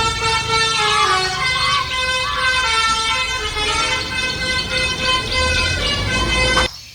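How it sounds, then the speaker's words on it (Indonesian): Telolet melody horn from a toy bus, a bright, loud, tuneful honking that loops continuously for several seconds and then cuts off abruptly. "ternyata bus telolet"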